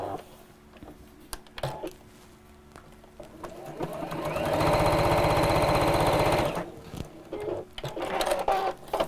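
A sewing machine stitches the lining of a fabric gift bag, a steady rapid mechanical whirr lasting about two seconds, rising out of quieter handling noises and light clatter before and after.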